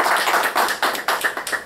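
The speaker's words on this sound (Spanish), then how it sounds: "lo recibimos con un aplauso" Short burst of applause from a small audience of students welcoming a guest speaker, a brief run of uneven claps heard up close.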